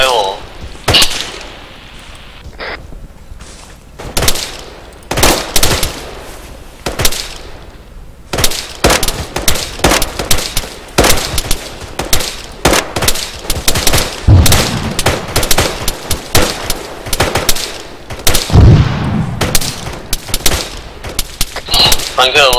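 Machine gun fire in an Arma 3 combat mission rattles in loud, rapid bursts almost without pause, with sharp nearby volleys and fusillades while voices talk over the shooting.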